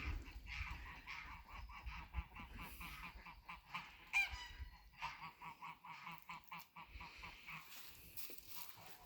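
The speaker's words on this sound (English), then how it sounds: "There's a duck back here." A duck on a farm calls with a series of honking, quacking notes, close and fairly clear, amid faint outdoor background noise.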